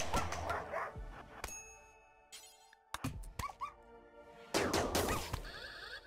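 Dogs barking in the game RimWorld, several sharp barks scattered through a busy mix of game effects, with a louder burst near the end.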